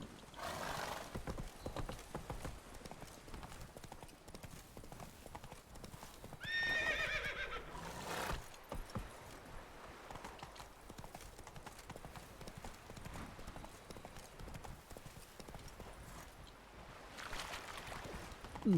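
Roach, the horse in The Witcher 3, gallops with a steady rapid clip-clop of hooves throughout, with a whinny partway in and game ambience underneath.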